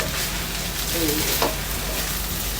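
Smashed Chinese garlic fries in a pan over medium heat for egg fried rice, giving a constant hissing sizzle with a brief scrape of stirring partway through.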